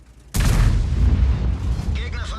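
A Grille 15 tank destroyer gun in World of Tanks on the Erlenberg map fires one sudden, loud, booming shot, followed by a long rumbling roar that slowly fades.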